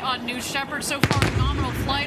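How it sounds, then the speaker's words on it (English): A sharp double boom cracks out as a Blue Origin New Shepard rocket booster returns for landing, brief and punchy, heard under a commentator's ongoing narration. "And what you just heard here was a sonic boom."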